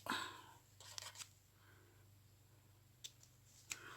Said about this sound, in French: Des ciseaux.